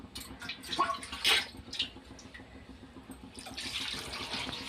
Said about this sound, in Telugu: నీళ్ళు ఎక్కువగానే వేస్తున్నాను